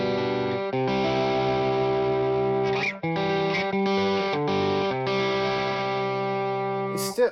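Electric guitar through a Mercurial Tubescreamer-style overdrive, playing a loud, continuous run of driven chords and single notes with brief breaks between phrases, with no voices.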